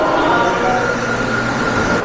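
Mexico City subway train car rolling along, a steady loud rumble and broadband hiss throughout with no distinct clacks, heard from inside the carriage.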